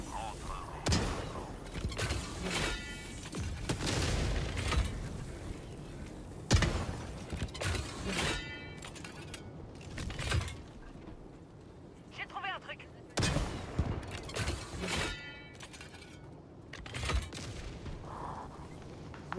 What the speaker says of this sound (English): The hell is shooting at me?